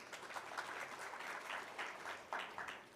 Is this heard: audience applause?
yes